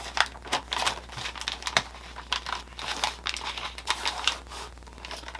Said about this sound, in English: Okay, now I'm going to hoop the stabilizer.